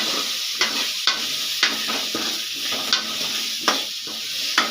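Vegetables sautéing with a little salt in a pan for a Tamil kuzhambu dish, a steady close sizzle broken by regular spoon scrapes and stirring clinks about every half second, with no talk.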